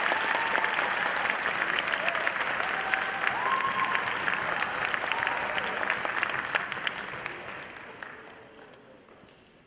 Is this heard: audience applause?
yes